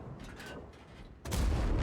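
A tank cannon fires premium rounds in a World of Tanks-style video game, one heavy booming shot arriving abruptly and loudly after a stretch of quieter rumbling battle ambience.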